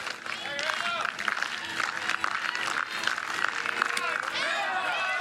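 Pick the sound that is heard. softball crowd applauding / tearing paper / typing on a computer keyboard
softball crowd applauding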